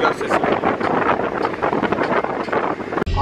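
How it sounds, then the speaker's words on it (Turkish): Steady roaring wind noise fills a car's cabin, loud and continuous, and ends in a brief sharp thump. "Şu anda bütün arabanın içinde rüzgar sesi var."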